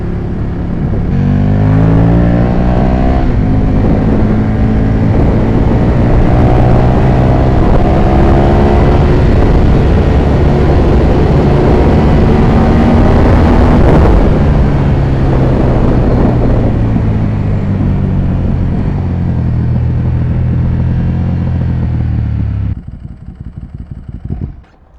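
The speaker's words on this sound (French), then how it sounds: "je vous présente ma nouvelle moto, une petite Ducati 1098, donc la Street Fighter" A Ducati 1098 Streetfighter motorcycle roars loudly up close while being ridden, its engine climbing through revs in rising sweeps and holding a hard, continuous drone before cutting off abruptly near the end.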